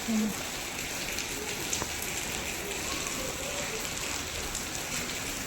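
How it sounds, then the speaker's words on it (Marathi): Continuous heavy rain in Pune patters on surfaces, a soft even hiss with occasional distinct drops, close by and unchanging. "कंटिन्यू पाऊस चालू कंटिन्यू म्हणजे बंदच नाही आहे पाऊस"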